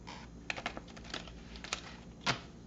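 Quiet, close crisp flicks and soft taps of tarot cards being shuffled, a handful of irregular clicks ending in a sharper riffle.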